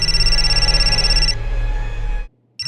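A loud electronic telephone ring tone repeats in steady pulses, changing pitch partway through, then stops briefly before starting again.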